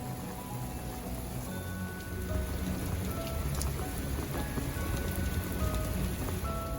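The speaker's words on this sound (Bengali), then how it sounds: "ঘন মেঘে ঢাকা রয়েছে যার জোরে বৃষ্টি পড়ছে এই বৃষ্টি কিন্তু ছাতাতেও আটকাচ্ছে না" Heavy rain pours steadily in Canada, a dense, even hiss with scattered close drops spattering nearby, holding at a constant moderate level with no voices.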